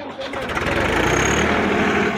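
A tractor pulling a tota plough in a ploughing competition runs in low third gear at 1600 rpm, giving a loud, steady, close engine drone with a rough harmonic throb that holds throughout.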